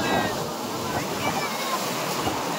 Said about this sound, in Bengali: কত বড় বড় ঢেউ আসছে একটা